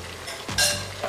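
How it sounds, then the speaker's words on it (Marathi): Water poured into chicken frying in oil for a Kolhapuri chicken curry sets off a sudden loud hiss and sizzle that swells, then settles into steady crackling, with a stir and a light clink near the end. "हे व्यवस्थित तेलामध्ये शिजल्यानंतर त्याला शिजवण्यासाठी आपण थोडं पाणी टाकून"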